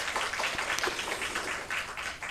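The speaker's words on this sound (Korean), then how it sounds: "우리 박수로 한번 축복을 하겠습니다" A church congregation at a Sunday morning worship service applauds together, a steady, moderately loud wash of clapping that continues throughout.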